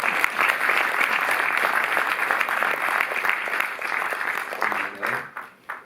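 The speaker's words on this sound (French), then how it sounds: "Mais vous pouvez applaudir." A cinema audience at a film presentation breaks into sustained, dense applause, loud and steady for several seconds before thinning out and tapering off toward the end.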